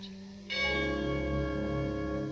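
A bell chimes in a Christmas radio drama, one clear strike that rings on with a long, sustained, shimmering decay, heard on its own with no voices.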